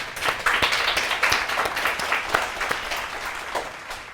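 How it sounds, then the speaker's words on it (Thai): An audience applauds with dense, sustained clapping that stays fairly loud and steady for about four seconds, with no talk over it. "ครับปรบมือให้กับคุณพ่อครับ"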